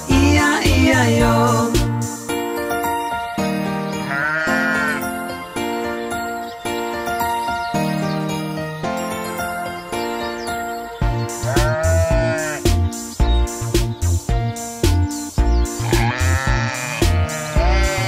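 Sung sheep bleats in an Old MacDonald nursery rhyme, a voice imitating baaing in rhythmic repeated phrases over a bouncy children's music backing, loud and continuous.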